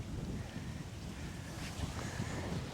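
Strong wind blowing across an island golf course in Batam, Indonesia, a steady rushing buffet of noise against the microphone with low gusty rumble, no voices.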